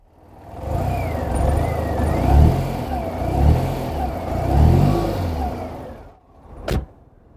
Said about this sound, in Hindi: एग्जॉस्ट की आपको आवाज़ सुनाता हूँ।